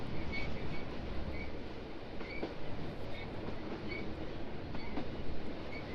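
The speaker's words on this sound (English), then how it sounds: "I'm on the train." A train in the video game Phoenix Springs rolls along with a steady, faint mechanical rumble and soft rhythmic clicking of wheels on rails, heard alone without talk.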